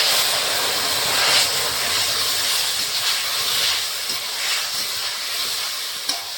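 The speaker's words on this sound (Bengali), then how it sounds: "সবজির সঙ্গে মশলাটা ভালো করে কষিয়ে নেব" Potatoes, okra and eggplant sautéing in a pan with chili-ginger-cumin paste, a continuous bright sizzle and hiss with small pops, close and steady, no talk.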